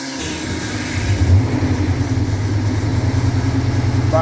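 An old truck engine in the cab turns over and catches, settling into a close, loud, low rumbling idle with a steady throbbing pulse.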